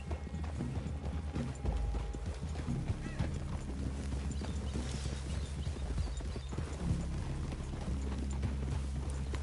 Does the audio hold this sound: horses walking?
yes